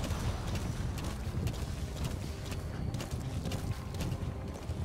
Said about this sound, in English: Such a clumsy horse.